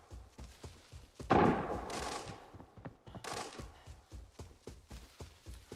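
Rapid bursts of gunfire crackle through a firefight between a squad and bots in the shooter Arena Breakout, dense volleys and scattered single shots echoing at mid distance over a thumping background rhythm.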